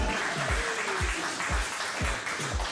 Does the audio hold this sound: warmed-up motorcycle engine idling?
no